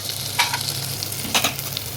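Mutton pieces are tipped onto browned onions in a hot pan and stirred, making a loud, steady sizzle broken by a few sharp scraping stirs close up.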